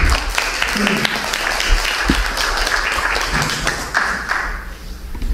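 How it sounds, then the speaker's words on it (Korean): An audience at a small concert applauds a film director. The dense clapping is close and fairly loud and carries on throughout, with a voice speaking over it. "김용호 감독님한테 박수 한번 보내주시면 좋겠습니다."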